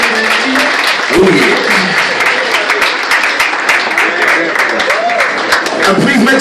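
A live audience claps and cheers loudly and steadily for a saxophone and clarinet player at a concert. A voice talks over the applause.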